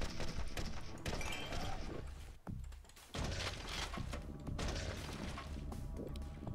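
An explosion in the zombie shooter game Zombotron bursts out as a loud boom with a sharp drop and rebound, surrounded by continuous dense game action, gunfire and impacts.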